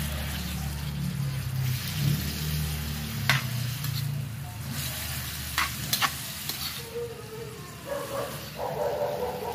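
Water spinach hits a hot pan while cooking adobong kangkong with tofu, giving a loud, continuous close sizzle with occasional stirring clatters.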